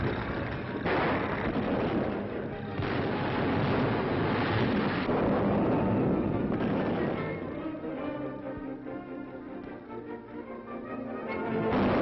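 Heavy artillery fire rumbles through a 1941 newsreel battle scene of Soviet forces fighting back, with repeated deep booms over a continuous roar, moderately loud and muffled in old recording quality.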